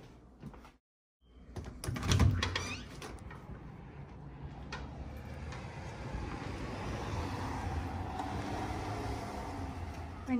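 A balcony door in a two-bedroom rental home clatters and slides in the first couple of seconds, followed by a steady, hushed outdoor ambience as it stands open.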